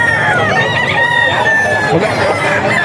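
A three-year-old Henny-feathered rooster crows loudly and close by at the Bocaue pet market. The long, drawn-out crow carries over the market's background clucking and chatter.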